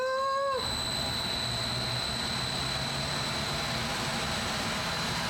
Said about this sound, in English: I'm about to do a wind simulator